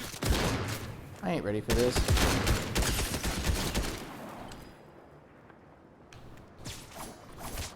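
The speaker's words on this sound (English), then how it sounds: "Oh, somebody's shooting at me, but why?" Rapid bursts of gunfire aimed at the player in Fortnite Chapter 3 Season 1, played solo against squads on Nintendo Switch, crackle loudly for the first four seconds. A voice speaks over the shots, then quieter scattered shots follow.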